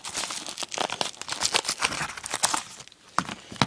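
Plastic packaging of an iPod 2nd generation case crinkling and crackling up close during unboxing, irregular bursts of sharp rustles with a brief pause near the end.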